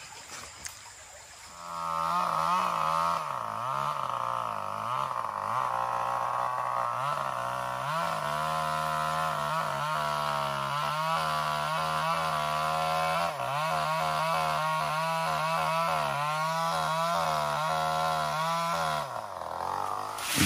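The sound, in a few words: chainsaw cutting bamboo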